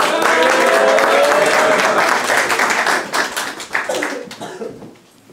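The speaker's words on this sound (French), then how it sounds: "Applaudissez-le s'il vous plaît" Audience applause for a performer at a comedy-style show, a dense, loud round of clapping that thins out toward the end, with a few scattered claps and faint voices as it dies away.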